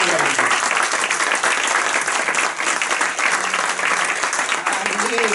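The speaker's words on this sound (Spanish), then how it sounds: "¿Cuántos atreven a darle un aplauso al Señor?" A church congregation claps for the Lord during a worship service, a dense, loud wall of applause that stays full and even throughout, with voices mixed into the clapping.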